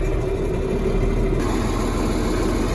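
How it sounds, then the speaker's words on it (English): A John Deere 4450 tractor engine idling close by: a steady, unbroken low rumble and throb that holds an even level throughout, with no voices. "got the tractor rolling, so I'm gonna let it warm up for a few minutes"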